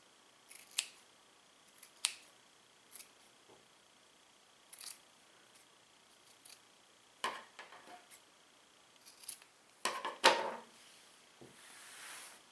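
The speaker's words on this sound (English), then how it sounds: "So I'm going to just kind of trim so that it looks nice and even at the bottom." Scissors trim the ends of a yarn tassel for a wall hanging. Quiet, close snips come one at a time at an uneven pace, then cluster into quicker cuts near the end, with no talking over them.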